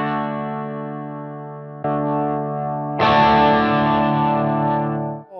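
An electric guitar played through a 1996 Line 6 AxSys 212 modeling amp, with sustained chords ringing out as the distortion effect switches on and off. The tone turns brighter and grittier at each switch, then the chord decays with a short dip.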